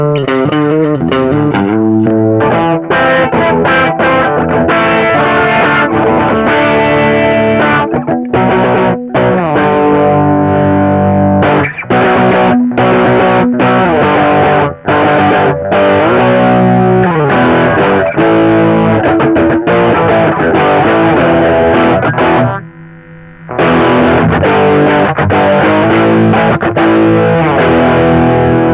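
An electric guitar plays through a Jim Dunlop MXR M115 Distortion III pedal, producing loud, continuous distorted chords and riffs with sustained notes and one short pause near the end. No one talks.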